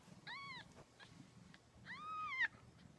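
Two high, thin kitten meows, the second longer and rising, sound close by as a young cat is held, with a low background rumble between the cries.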